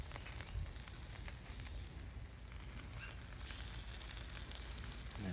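Spam frying in a pan for a Spam fried egg burger gives a steady, faint sizzle and crackle, continuous and close, with no talking.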